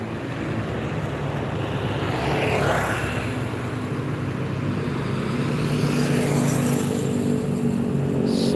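A steady roar of private cars streams past on a road during the holiday homecoming rush, a continuous broadband traffic wash with no talking.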